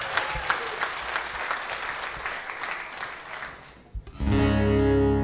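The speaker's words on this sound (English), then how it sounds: "Give a big round of applause to Mr. Johnny Rochester for that lovely introduction." Audience applause fills a large indoor evening event, a steady mid-distance wash of clapping that fades around four seconds before a louder sustained musical tone takes over.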